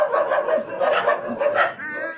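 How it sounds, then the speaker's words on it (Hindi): A dog barks in a rural Indian home setting, a series of repeated barks and yips in quick rhythmic bursts, fairly close and clear, with no talk over it. "कुत्ता का गीत गाए रहे।"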